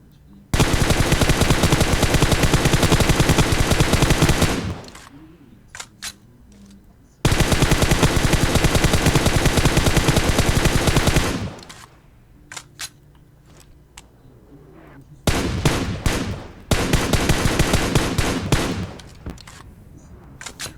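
Rapid automatic gunfire in the PUBG Mobile battle game, three long sustained loud bursts separated by short gaps with scattered single shots and faint background sounds between them, close and dominant.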